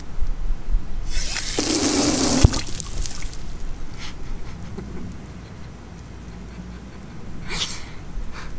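Water rushing on through a garden hose connected to a Camco adjustable RV water pressure regulator, a loud hissing burst lasting about two seconds, then a quieter steady flow with a brief spurt near the end.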